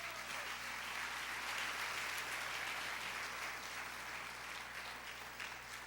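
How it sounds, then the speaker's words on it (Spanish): A church congregation applauds in a continuous, even wash of clapping that sounds faint and distant, with no talking over it. "Denle un aplauso a Dios este día."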